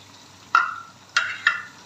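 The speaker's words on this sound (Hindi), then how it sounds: "अच्छे से मसाले की भुनाई करेंगे" Spices, ginger and peas stir-fried with salt and turmeric in a pan, with three short scraping sizzles as the spoon moves, close and moderately loud over quiet background.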